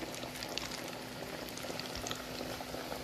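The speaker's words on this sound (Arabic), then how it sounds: "غادي نبقى هكا كنقلي ونستمرو" Makrout dough fries in hot oil in a pan, giving a dense, continuous sizzling hiss with fine bubbling crackle. The sound stays close and steady throughout.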